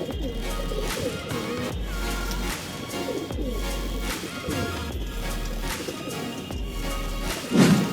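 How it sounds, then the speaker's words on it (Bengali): Pigeons busy eating their feed, cooing in repeated low throaty phrases at a steady rhythm from close range, with faint background chirps and no talk. "বিল্ডার পায়রাদের সবাই একদম ব্যস্ত খাওয়ার জন্য"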